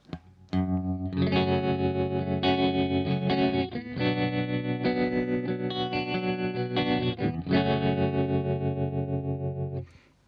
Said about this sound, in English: let's give it a go to this vintage style tremolo